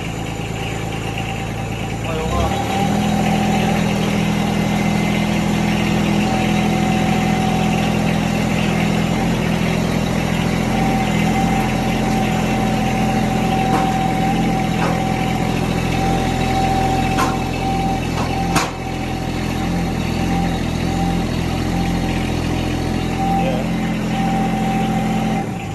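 A John Deere X758 lawn tractor engine idles steadily at close range, a constant low hum holding for the whole stretch with a brief knock partway through.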